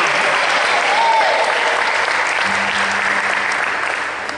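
A church congregation claps together at an evening service, a steady, full round of applause with a faint voice briefly underneath, easing slightly toward the end.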